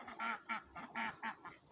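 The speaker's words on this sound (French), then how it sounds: "Ici donc il y a mes coureurs indiens bleus, un mâle et puis 2 femelles" Blue Indian Runner ducks, one drake and two females, quack in a rapid series of about six loud, close calls with short gaps between them.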